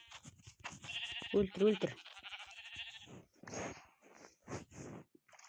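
Sheep in the Minecraft video game bleating, several nasal bleats in quick succession, with a person speaking briefly over the game sounds.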